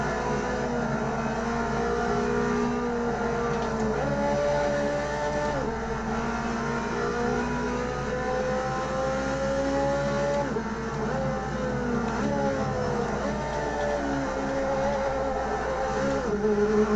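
A loud, steady engine of a modded race car in the racing game Automobilista 2 drones continuously, its pitch sliding up and down with gear shifts, with no talking.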